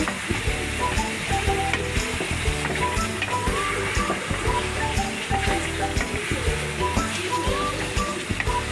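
Green chilies frying in hot oil for a chicken korma, stirred with a utensil: a steady, loud, close sizzle with scraping stir strokes throughout, no talking.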